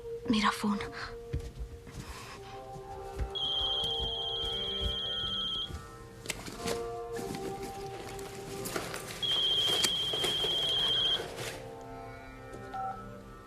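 A mobile phone rings indoors during a yoga class, with two bursts of repeating electronic ringtone a few seconds apart over soft room noise and movement.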